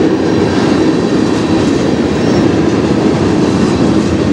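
A CN freight train rolls toward a tunnel in Sarnia, Ontario, a steady broadband rumble of wheels and cars that holds at an even, loud level throughout with no voices.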